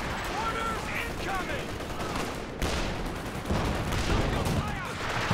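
A mortar half-track barrage and steady gunfire in Company of Heroes 2, a dense, continuous battle din of small-arms fire and explosions, with a commentator's voice faintly over it.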